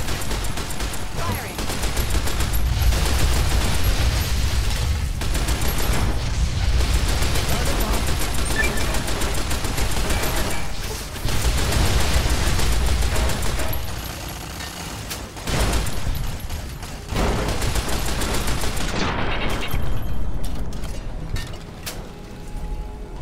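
Turrets firing in Fallout New Vegas: sustained loud rattling automatic fire through most of the stretch, broken by a few short pauses and fading near the end, with a voice heard over the shooting.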